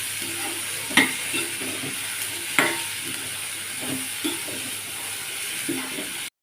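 Cluster beans stir-fried in oil with a spoon, an ongoing sizzle punctuated by a few spoon taps and scrapes against the pan, then abrupt silence.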